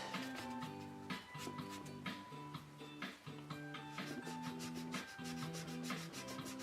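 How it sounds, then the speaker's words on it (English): Sandpaper rubs over a custom-painted Giganta figure in a rhythmic back-and-forth scratching, repeated strokes close up with brief pauses, set against a steady harmonic tonal background. "It sands down pretty well."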